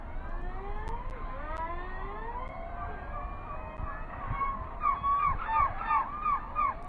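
Birds honking in a video game, a series of gliding, siren-like honks over a low rumbling background, growing more rapid and pronounced toward the end.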